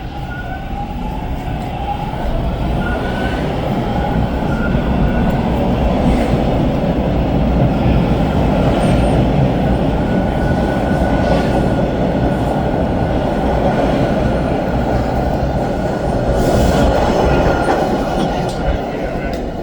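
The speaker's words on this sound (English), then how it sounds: "Alright guys, the train's leaving. Heading out to Islington." A Toronto TTC subway train departs Islington station with a loud, sustained rolling roar, wheel clatter and faint squealing tones running continuously throughout.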